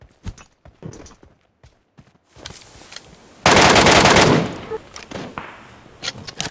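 Gunfire rings out in the mobile game Free Fire, first scattered sharp single shots, then a dense, loud automatic burst lasting about a second, followed by more sporadic cracks, with brief speech around it.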